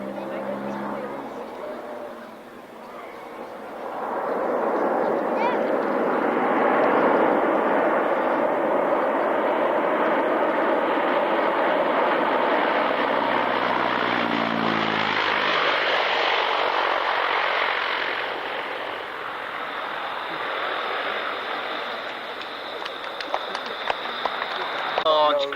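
A large grey military aircraft taxis onto the runway at the Fairford airshow, its engines a loud, sustained roar that swells and then eases, with a commentator talking over it from a public address.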